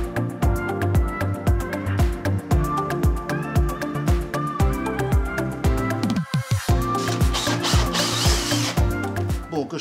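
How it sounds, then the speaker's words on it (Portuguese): A power drill bores angled pilot holes for shelf screws, its motor whirring loud and close in repeated pulsing bursts with a brief drop midway, no talk over it. "O que eu estou a fazer é fazer um furo como guia para os parafusos que vão parafusar esta lateral, e para isso estou a fazê-los meio inclinados"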